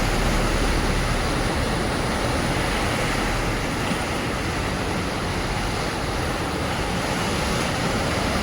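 Canal water spilling over and rushing in an overflow, a steady loud broadband roar with no voices, constant throughout.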